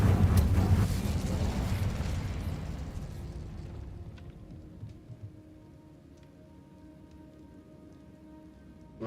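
Incendio fire spell cast in the video game Hogwarts Legacy, a rushing, crackling burst of flame that roars loudly at first and then fades into a low, dying rumble.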